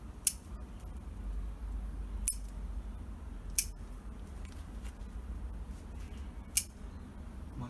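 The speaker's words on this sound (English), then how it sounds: "I'll just use my scissors, normal scissors, and just get rid of these which are sticking out" Normal scissors trimming a young pine being shaped as pre-bonsai: four crisp, isolated snips spaced a second or more apart, close and clear over a quiet, low background hum.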